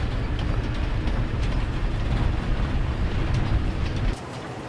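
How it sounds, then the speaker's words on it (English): A train rolls along in the farming game Farming Simulator 22, a steady low rumble with faint rhythmic clatter that drops to a quieter hum near the end. "We'll get the train moving."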